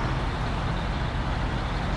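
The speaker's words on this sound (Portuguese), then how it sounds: "Agora vamos estacionar o nosso caminhão agora." Truck being parked in SnowRunner: a steady, loud engine drone with a low rumble runs continuously, with no talk over it.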